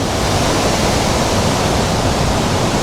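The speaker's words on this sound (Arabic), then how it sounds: "فشوفوا لي جمال الشلال" Uyun al-Samak waterfall in Akkar, Lebanon, its strong, cold water pouring in a steady, loud, close roar of broadband rushing noise that holds unchanged throughout, with no voices.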